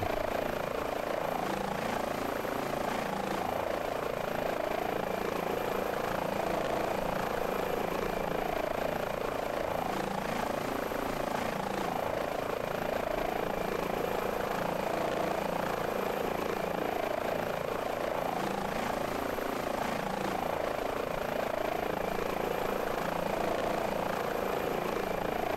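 An Airbus H145 helicopter in Microsoft Flight Simulator 2020 flies over Grand Coulee with a steady, droning rotor thrum and engine whine, continuous and unchanging for the whole stretch.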